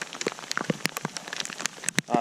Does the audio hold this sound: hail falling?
yes